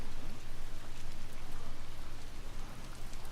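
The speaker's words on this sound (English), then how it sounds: "I just want to make sure the raining sound is here, not outside" Steady, dense rainfall from the video game The Order: 1886, a constant close patter of drops with a low rumbling background and no voices.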